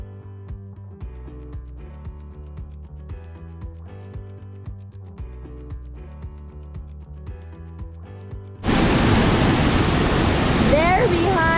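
Pucuk Waterfall in Bali roars as a steady, loud broadband rush that begins abruptly and continues, following a stretch of background music.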